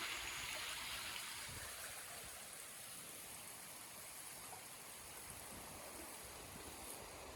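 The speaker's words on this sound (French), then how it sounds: "On a un beau ruisseau." A pretty brook outdoors near a wine cellar on a cool summer day, steady broadband rush and babble of running water, close and continuous with no voices.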